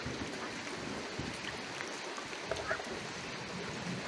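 Domestic ducks bathing and washing at a village pond, with faint quacks and honks scattered over a steady wash of water and outdoor noise, fairly distant and low in level.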